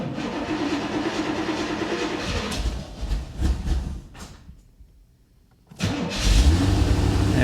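A Corvette fires up after a fuel leak repair, its engine catching and revving loudly up close, then dropping away briefly before roaring back with heavy low rumble.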